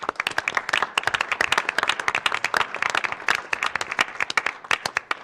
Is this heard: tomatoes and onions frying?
no